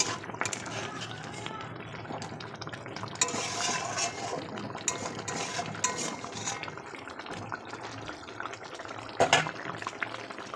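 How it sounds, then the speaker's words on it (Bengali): Pabda fish jhol simmers in a pan while being stirred, giving soft scraping and a low bubbling sizzle that continues under a voice, with faint utensil clinks near the end. "মাছগুলোকে দিয়ে সুন্দর করে নাড়িয়ে চাড়িয়ে দিই যাতে সব দিকে ভালো মেশে।"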